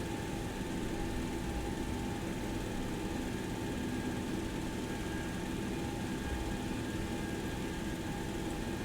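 A Boeing 727 engine spooling up in the X-Plane 11 flight simulator, a steady loud jet whine and roar with constant tones that fills the whole stretch without pause.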